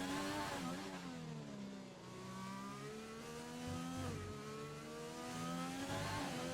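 A McLaren Formula 1 car in F1 2020 on a flying lap around the Singapore street circuit, its high-revving engine whining steadily and dipping through quick gear shifts before climbing again, loud and close with no talking.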